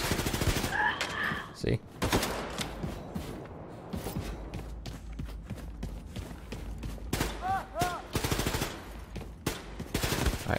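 Submachine gun fire in Wolfenstein II: The New Colossus comes in rapid, loud bursts and scattered shots, mixed with mechanical clatter and game effects, as someone talks over parts of it.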